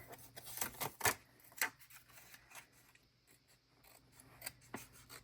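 Small scissors snip paper for a creative journal cover page. A cluster of sharp, close snips comes first, then softer, scattered cuts and faint paper rustling.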